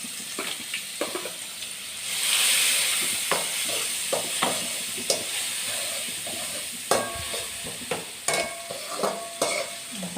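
Onion and garlic paste hits hot oil with asafoetida and is stirred, a continuous sizzle broken by repeated spoon scrapes and clinks against the pan, close and clear with no voices.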